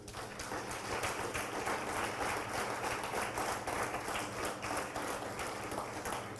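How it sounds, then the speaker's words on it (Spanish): A church congregation applauds together, a steady wash of many hands clapping at moderate loudness, sustained evenly throughout without talk over it. "Den un aplauso al Señor."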